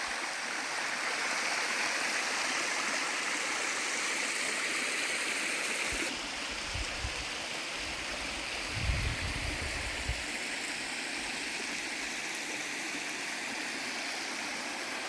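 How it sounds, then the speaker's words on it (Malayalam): A small stream flows steadily nearby past farmland bordering forest in Idukki, a constant watery rush with occasional low thumps partway through. "നമ്മുടെ സ്ഥലത്തിൻ്റെ അതിൽ കൂടെ ഒഴുകുന്ന ചെറിയൊരു തോടാണ് കേട്ടോ ഇത്"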